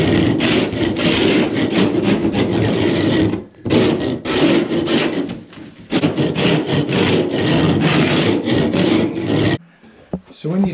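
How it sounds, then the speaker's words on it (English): A scraper rasps over screw heads in a plastered bathroom ceiling during repair work, loud and close, in long continuous rough strokes broken by a few brief pauses. "you're only just going for a light scrape to get the heads off"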